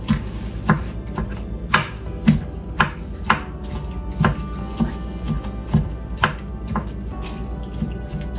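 Juicy apple pie filling being chopped up in a dish, a spoon or knife striking the bottom in a steady series of about a dozen soft, wet thunks, close up and clear, with a faint watery drip behind.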